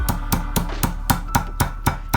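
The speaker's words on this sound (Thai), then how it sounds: "แล้วใช้ค้อนสำหรับที่จะทุบชิ้นเนื้อนะคะ ทุบลงไปค่ะ" A meat hammer pounds pork flat for schnitzel, about nine firm, evenly spaced thuds in quick succession, close and clear with no talking.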